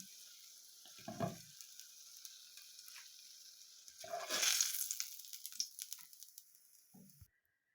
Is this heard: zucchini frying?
yes